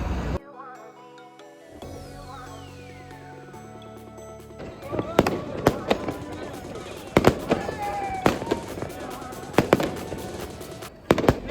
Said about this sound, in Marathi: न्यू इयर सेलिब्रेशनसाठी आम्ही पार्लमेंट एरियात गेलो होतो आणि तिथं अशी फटाक्यांची आतिषबाजी सुरू होती